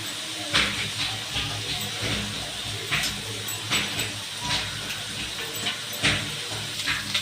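Small river fish fry in a pan with a steady, close hiss and sizzle, punctuated by several sharper crackles and pops at irregular intervals.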